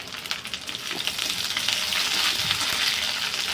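Onions sizzle and fry steadily in a pan as they are stirred before greens are added, a continuous bright crackle with soft scraping and no talk.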